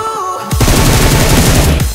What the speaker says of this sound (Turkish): Adam önüme mermi attı değil mi?